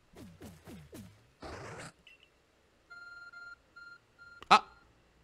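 Electronic phone-call beeps from the video game Pokémon Legends: Arceus: a few short, evenly spaced tones in a row, preceded by other brief game sounds and followed by a louder blip.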